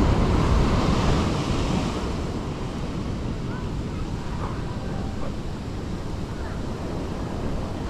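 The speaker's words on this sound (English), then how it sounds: "Back at the beach, it's a huge swell today." Heavy surf from a huge swell at high tide on a beach, a constant roaring wash of breaking waves with wind buffeting the microphone, loudest at the start and steady after.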